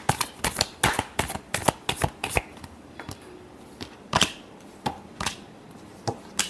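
Tarot cards shuffled by hand in quick bursts of crisp riffling slaps, close and fairly loud, with short pauses between runs.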